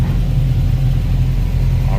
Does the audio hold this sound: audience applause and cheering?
no